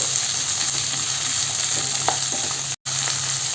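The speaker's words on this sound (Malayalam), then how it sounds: "കൂടെ തന്നെ ക്യാപ്സിക്കവും ചേർക്കാം ഒന്ന് വാട്ടിയെടുക്കാം" Capsicum sautéing in a hot pan for chilli chicken, a steady loud close sizzle with faint stirring scrapes, broken by one very brief dropout near the end, no voice.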